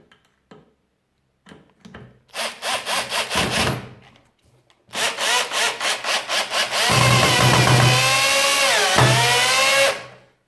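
A Parkside PBHA 12 A1 cordless hammer drill whirs in short repeated bursts, then runs in a longer loud stretch with pitch dips as it bites into material, close up.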